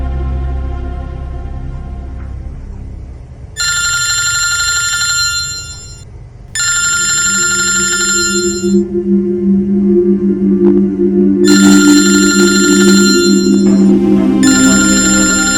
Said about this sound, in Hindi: जतिन को फोन लगाता हूं।